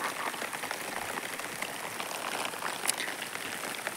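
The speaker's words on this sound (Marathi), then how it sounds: "पण तेवढ्यात पाऊस सुरू झाला" Unseasonal rain falls in a farmyard on a windy, sunny day, a steady broadband patter of drops hitting surfaces throughout, fairly close and even, with no talk.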